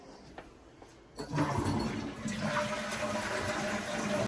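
A toilet flushes after a repair, a loud rushing surge starting about a second in and then sustained refilling water with a steady tone, close by with no talk.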